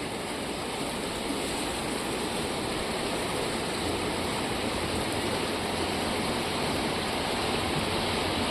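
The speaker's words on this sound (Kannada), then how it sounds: "ಅರ್ಕೇಶ್ವರ ದೇವಾಲಯ ಬಳಿ ಇರುವಂಥ ಕಾವೇರಿ ನದಿ ತುಂಬಿ ಹರಿಯುತ್ತಿರುವ ದೃಶ್ಯ" The flooded Kaveri river near the Arkeshwara temple in Krishnarajanagara rushes past in a constant, dense roar of flowing water, steady and loud throughout, with no voices.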